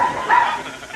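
A single dog barks once, close and fairly loud, in a short tonal bow-wow inside a domestic sitcom scene.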